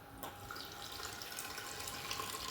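Water pours steadily into a pot holding cinnamon and cloves for spiced tea, a continuous close splashing stream that starts with a small clatter and runs unbroken, fairly quiet.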